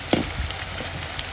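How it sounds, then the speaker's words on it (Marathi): Hot oil boiling in a pan over a wood-fired stove for frying sabudana vada, giving a quiet, steady sizzle with a couple of brief sharper pops. "तेल आता उकळलेलं आहे."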